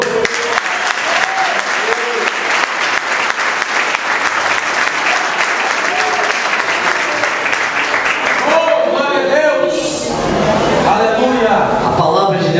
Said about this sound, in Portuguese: Você pode aplaudir de novo?